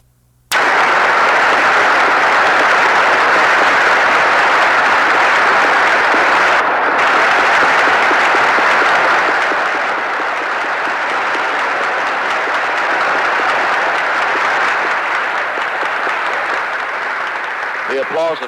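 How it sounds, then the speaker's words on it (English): Loud, sustained applause fills the House chamber as President Franklin D. Roosevelt arrives for his war declaration against Japan, a continuous roar of clapping that carries on steadily for nearly twenty seconds. "The applause, of course, is for the President"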